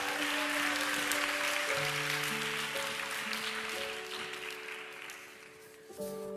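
An audience at a church young-adults gathering applauds to welcome a speaker, steady clapping at moderate level that slowly fades, under a sustained musical tone or keyboard chords.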